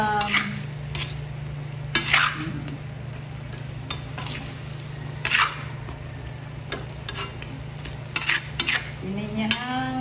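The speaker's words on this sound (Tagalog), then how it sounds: "Haluin ko na ngayon." Shrimp sautéed in butter or margarine with pineapple is stirred in a pan, with repeated scraping and clinking of a utensil over a steady low sizzle.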